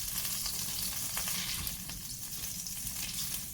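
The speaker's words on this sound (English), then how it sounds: "My butter and olive oil are melting up here." Butter and olive oil sizzling in a pan over a turned-down flame for a shrimp and crab étouffée, a steady, close, crackling fry with no talking.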